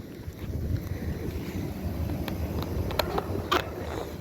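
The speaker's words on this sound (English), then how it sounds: "Open scroll compressor." An open scroll compressor runs in an elementary school HVAC system, producing a steady, loud mechanical drone with a broadband rushing hiss and a few sharp clicks, close to the microphone.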